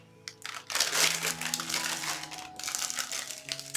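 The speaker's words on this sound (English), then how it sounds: "Top that off with a little bit of some paper shreds." Paper shreds rustling as they are piled on top of a Valentine's gift basket filled with candy kisses, a close, busy crinkling that goes on steadily for several seconds with no talking.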